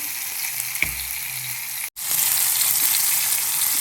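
Green chillies sizzle and fry with salt in a pan, a steady close crackling hiss broken by one brief pause before the frying noise resumes at full strength.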